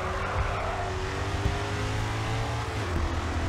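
A race car's engine in the video game Grid 2 roars steadily at high revs, with a constant mechanical whine and no talking.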